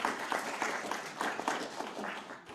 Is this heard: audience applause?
yes